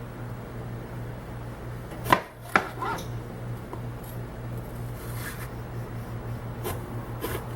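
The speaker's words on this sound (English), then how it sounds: "and we'll cut our peppers" A knife chops through peppers for ratatouille on a board: two sharp, close strikes in quick succession, then quieter cutting over a steady low kitchen hum.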